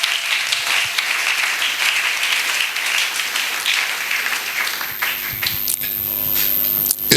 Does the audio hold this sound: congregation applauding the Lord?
yes